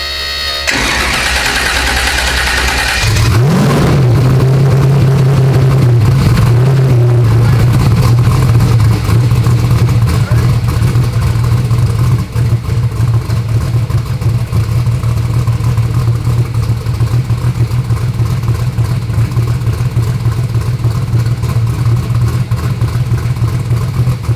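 Black Sheep no-prep drag race car engine cranking and firing up, then holding a loud, steady, deep idle with a faint rumbling rise partway through, close and dominant throughout.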